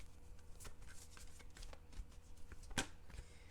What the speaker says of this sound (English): if I can just get the cards off the floor, I shall shuffle them for you